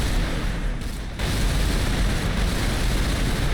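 Explosive ammunition detonates inside a room in the shooter game Turok 2, a dense, loud, rumbling blast that stays sustained with a brief dip partway through.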